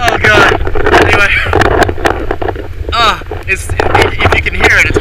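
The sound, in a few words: strong wind blowing on the microphone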